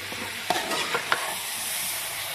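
Cabbage, peas and potato stir-fry in a pan with a steady hiss of sizzling, broken by a few sharp scrapes and clinks of a spatula early on, with no voices.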